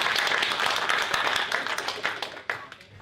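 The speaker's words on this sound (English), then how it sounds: "big round of applause" An audience claps and applauds continuously at a tech meetup as a speaker is welcomed to the stage, the dense applause close and steady before tapering off in the final second.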